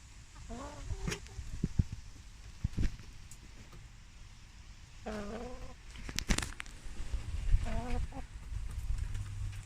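Hens cluck at an allotment in a few scattered bursts of rising, warbling calls, some close and loud, with quieter rustling and background noise between them and a person talking nearby.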